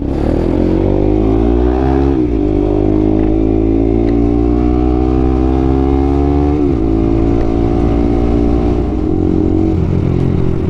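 A Pulsar NS200 motorcycle engine held at full throttle on a road, roaring loud and steady for the whole stretch, its pitch rising and falling between gear changes, with no voices.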